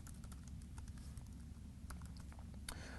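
Fast typing on a computer keyboard while entering a line of code, a steady patter of close key clicks with a few sharper taps, no talking.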